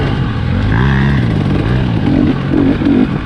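2020 KTM 300 XC-W TPI two-stroke dirt bike ridden at Crow Canyon, its engine buzzing and rising in pitch at close range, mixed with wind rumble.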